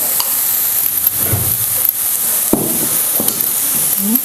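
Grated carrot for gajar halwa is stirred and sautéed in ghee in a pan, a steady sizzling hiss with several spatula scrapes and clinks against the pan, close up and with no talking.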